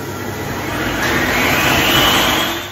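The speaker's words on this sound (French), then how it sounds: "je ferme le robot et je vais donc mixer pendant 1 minute en vitesse 7" Food processor whirring steadily at speed 7 as it blends a red pepper mixture, a loud continuous motor drone that swells slightly and holds, with no talking.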